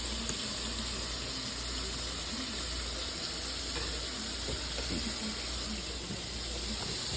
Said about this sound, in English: Just about to stir fry noodles.